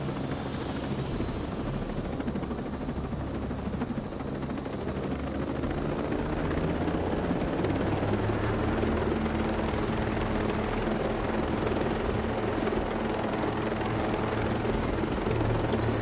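Helicopter in a video game, a steady rotor and engine drone that holds loud and constant throughout with no speech.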